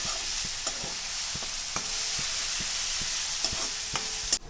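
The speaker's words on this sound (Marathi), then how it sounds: "मिरची आणि लसूण बारीक करून घेतलेला ती पण टाकून घेते ती पण तेलामध्ये छान असं आपल्याला मिरची कच्चापणा त्याचा जायला पाहिजे असं तळून घेते मी" Chopped green chilies and garlic frying in oil make a steady bright sizzle, with regular scraping taps of a spoon stirring the pan, close up and without talk.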